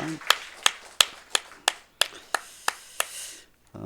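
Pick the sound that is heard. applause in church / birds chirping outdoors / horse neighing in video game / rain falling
applause in church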